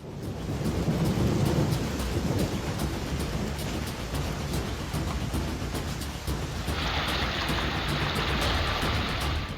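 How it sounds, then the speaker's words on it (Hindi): Heavy monsoon rain pours down steadily in northeast India, a dense loud roar of rainfall with deep rumbling thunder early on, continuous and unbroken with no voices. "अब पूर्वोत्तर भारत में भी बादल जमकर बरस रहे हैं"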